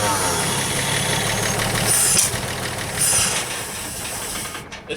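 A 1939 Chevy engine runs with its fuel pump working, a steady close idling rumble with hiss and faint rhythmic ticking, with brief voices partway through.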